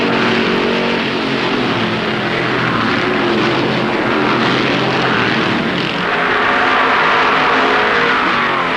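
1964 Southern 500 stock cars roaring around Darlington, with David Pearson's Dodge accelerating hard; a loud, continuous engine drone fills the whole stretch, swelling slightly as cars pass.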